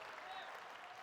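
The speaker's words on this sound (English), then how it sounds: "Please give a round of applause for American Values" Brief, steady wash of crowd applause at a conference opening session, dense and even throughout, fairly faint.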